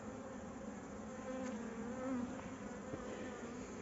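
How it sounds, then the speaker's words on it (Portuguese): A bee swarm living in a tyre fills the air with a dense, continuous buzzing hum. It stays close and steady, with individual bees whining past, and no one speaks. "Eu tô aqui com certeza com o mesmo enxame."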